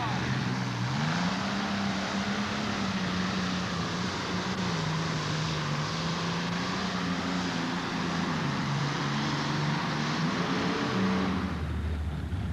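A heavy tractor-pulling engine roars loudly and continuously at a tractor pull event, its pitch wavering as it strains, then cuts off near the end.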